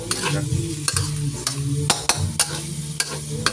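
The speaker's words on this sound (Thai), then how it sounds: "ต้องเคาะกระทะให้ดังๆครับชาวบ้านเขาจะได้รู้ว่าทำกับข้าว" Stir-frying chopped chicken with eggplant in a wok, with a sharp metal spatula knocking the pan rim in loud irregular clacks over a steady sizzle and scraping stir.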